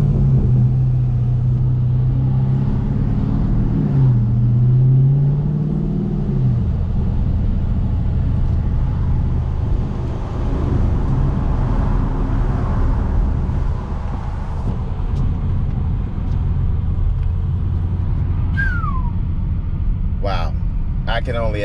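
A Dodge Charger Daytona 392 engine rumbles steadily with a deep, loud modified exhaust note, idling and revving up close while people talk over it.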